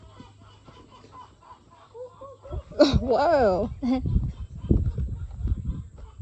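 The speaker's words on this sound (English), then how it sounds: "Chicken, chicken. It sounds like it's laughing." Chickens in a coop at James Monroe's Highland cackle in a burst of rising and falling calls that sound almost like laughter, close by and fairly loud, with people talking before and after.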